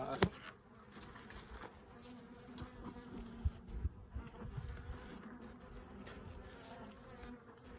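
Honey bees buzzing around an open hive during an inspection, a soft steady swarm hum with a few brief louder passes close by, fairly quiet and without talk.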